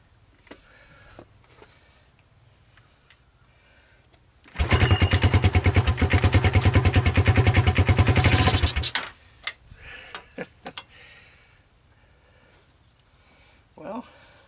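Honda TRX200SX ATV engine, trashed and abandoned, cranking and catching into a loud, rapid rattling run for about four seconds before cutting out, with quieter handling noises around it and no talk.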